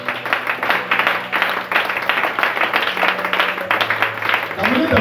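A church congregation applauding during a sermon, rhythmic clapping with voices and a sustained musical tone underneath, close and full.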